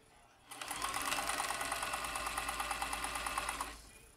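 A vintage Janome Combi DX 502 serger with a cutting blade, driven by its foot pedal, runs a flat lock stitch in one steady, rapid whirring burst of about three seconds, close up and without talk.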